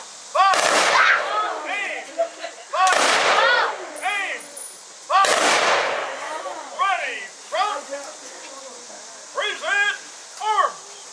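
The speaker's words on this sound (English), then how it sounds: "Aim! Fire!" An honor guard's rifle volleys at a veteran's funeral: three loud, near cracks spaced a couple of seconds apart, each trailed by echoes, with birdsong chirping steadily throughout.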